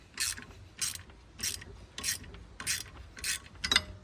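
Ratchet wrench cranking bolts on a big brake kit being fitted to a Toyota MR2, six evenly spaced bursts of sharp metallic clicking, close and loud, with no talk.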